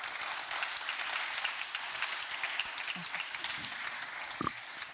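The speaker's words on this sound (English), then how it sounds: "Big applause." Faint, distant applause from an audience at an innovation-program opening ceremony, a steady patter of clapping with a few brief low sounds near the end.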